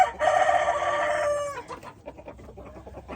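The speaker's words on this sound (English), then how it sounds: "Old rooster's diving in on one of them hens there" A rooster crows loudly and close by for over a second, followed by scattered clucking from hens, in an egg-laying flock.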